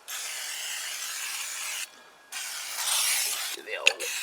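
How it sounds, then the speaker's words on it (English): Brake cleaner sprays onto the front brake disc of a Zontes Tiger motorcycle in long, steady hissing bursts, with a brief pause between them and a little handling noise at the end. "let me grab some brake cleaner and a rag"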